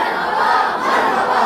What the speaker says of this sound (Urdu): تو آئیں حضور کی آمد کی خوشی میں ہم نعرے لگاتے ہیں